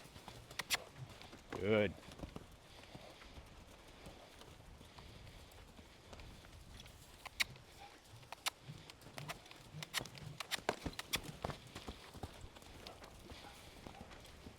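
A horse's hooves thud in an irregular cantering rhythm on soft ground, moderately near, with a trainer speaking briefly between the footfalls.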